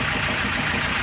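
A warm car engine idles steadily with a broadband hum and slight vibration, close and continuous with no voices.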